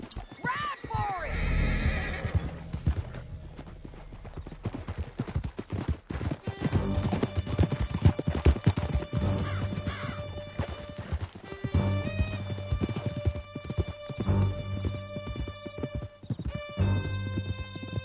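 Horses gallop in Red Dead Redemption 2, with steady clip-clopping hooves, loud whinnies and neighs, and crashing impacts, all under a continuous bed of music and action noise.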